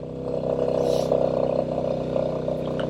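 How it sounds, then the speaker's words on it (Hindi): Loaded motorbike engine labouring up the steep approach to Umling La pass in Ladakh, a steady low drone with continuous rumble and a slight wavering strain, close and fairly loud, no talk over it. "कितना दम लगा रही है अपनी गाड़ी चढ़ने में।"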